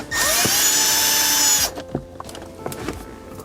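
A power drill drives bolts to mount a car radio in an Acura TL, a loud close whir running steadily for about a second and a half before stopping, followed by a few faint clicks and knocks.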